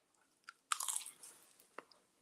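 A single crisp crunch of teeth biting into a crunchy one-ingredient low carb pizza crust topped with turkey pepperoni and sauce, followed by chewing sounds, close and alone without talk.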